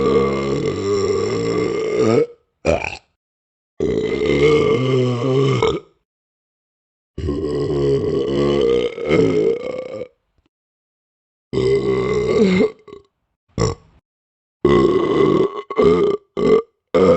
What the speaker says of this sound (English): I'm gonna burp lots of times because I love burping.